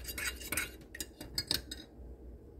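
A spoon clinks and scrapes around a cup of cannabis-infused coffee with cookie pieces in it, a string of quick metallic taps and stirs that trails off into quiet.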